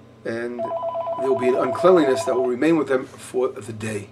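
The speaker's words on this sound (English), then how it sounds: "going to have to answer this phone call" A telephone rings repeatedly in steady electronic pulses, sounding clearly beneath a man's continuous nearby speech.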